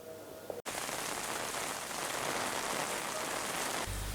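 Heavy rain lashes down with strong wind in Pacitan, a dense, constant roar of pouring water that holds evenly throughout at close range after a brief thump near the start.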